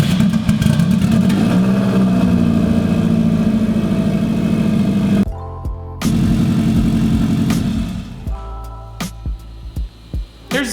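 A Subaru EJ20 engine fitted in a Mazda Miata runs loud and close, idling with a steady rumble and some revving. It cuts off briefly and then restarts, and toward the end it gives a series of short, separate blips.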